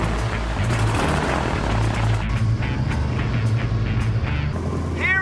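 A steady, loud roar of aircraft engines fills the cabin inside a plane in flight, a continuous broadband drone with no break.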